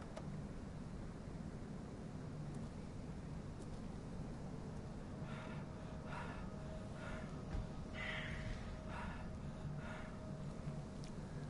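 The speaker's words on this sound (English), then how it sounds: "Can you stop panting, please?" A character in the horror game Call of Cthulhu pants in short, breathy bursts, repeated roughly every second over a steady hiss of ambient noise.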